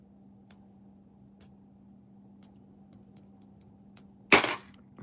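A silver half dollar coin is dropped, producing several faint, high ringing pings spaced across a few seconds before a louder final clatter, close up in a quiet room with no talking.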